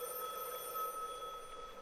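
A telephone rings inside the Liminalcore backrooms game, a faint, steady electronic bell tone sustained throughout against a quiet, empty ambience.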